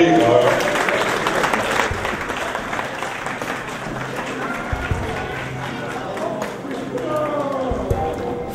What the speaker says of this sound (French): Il faut continuer d'applaudir.